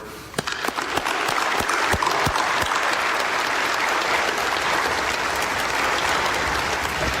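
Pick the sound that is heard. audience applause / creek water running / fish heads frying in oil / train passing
audience applause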